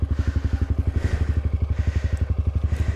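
A motorcycle engine idles close by with a steady, rapid chugging pulse that holds an even rhythm throughout, with no voices.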